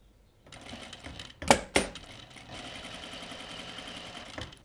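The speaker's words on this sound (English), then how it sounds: "And we'll start sewing." A sewing machine stitches fabric for a top and dress, starting after a couple of sharp clunks, then running at a steady, rapid mechanical whir, close and alone without talking.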